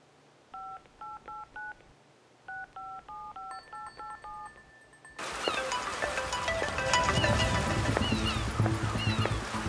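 Someone dials a telephone keypad, producing a quick rhythmic series of short beeping tones in pairs and clusters, then the tones give way to a louder dense ringing line with background noise.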